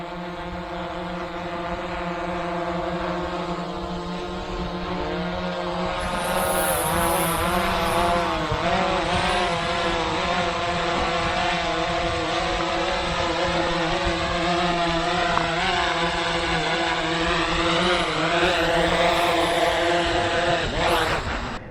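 A PowerEgg X drone flies and comes in to land, its propellers giving a loud, continuous whining buzz with shifting tonal bands that holds steady from start to finish.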